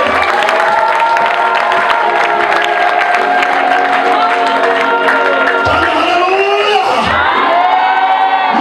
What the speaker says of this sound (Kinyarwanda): Ayikomera amashyi cyane